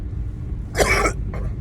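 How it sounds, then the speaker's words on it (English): A single short, harsh cough bursts out close by, followed by a fainter second cough, over a low rumbling background. "Excuse me for coughing."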